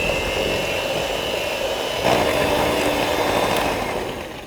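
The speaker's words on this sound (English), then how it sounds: "With my handy hand whisk, we're gonna mix this" An electric hand whisk creams butter with sugar in a bowl, a steady whirring motor drone with a faint whine that grows slightly louder midway, then tapers off toward the end.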